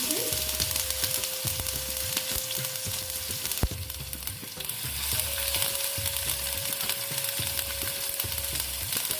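Tomatoes dropped into a hot pan of oil and garam masala, frying with a steady sizzle while a spoon stirs in repeated scraping strokes, close and continuous.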